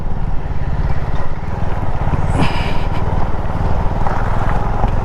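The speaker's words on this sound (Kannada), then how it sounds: "ಈ ಥರ ಕಿತ್ತೋಗಿರೋ ರೋಡಲ್ಲಿ ಕೂಡ ಗಾಡಿಗಳು ಓಡಾಡ್ತಾವೆ" A vehicle engine rumbles loudly and steadily throughout on a badly broken road, with rattling and jolting noise layered over the drone.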